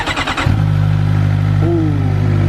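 A Suzuki GSX-R 600 sportbike with its stock exhaust starts up: a brief rhythmic starter cranking, then the engine catches and settles into a loud, steady idle close by, with a slight rise in pitch near the end.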